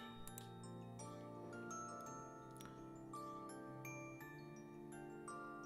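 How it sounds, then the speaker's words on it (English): Wind chimes in the video game Mabinogi ring out in a dark, ambient game scene, with bright, scattered tinkling strikes layered over a sustained low musical drone throughout. "The lilt of these wind chimes are calming. Very soothing, even."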